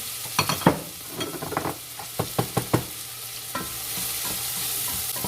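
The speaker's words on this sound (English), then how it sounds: "I'm gonna put these onions in here to start sizzling and cooking" Onions sizzle in hot oil with a steady frying hiss, broken early on by several sharp stirring clatters, then a continuous sizzle to the end.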